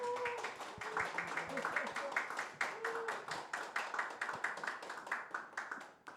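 Church congregation clapping to welcome visitors during a Korean worship service, a quick run of rhythmic claps from a modest group, fairly close, fading out at the end, with a voice briefly beneath.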